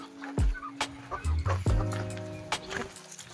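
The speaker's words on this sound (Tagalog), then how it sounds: "Ito nga pala yung isang alaga natin. Yan, isang Brahma at isang Indio Gigante na matangkad yan, no?" Brahma and Indio Gigante chickens give a few short clucks and calls, close by, mixed with a person talking and some background farm noise.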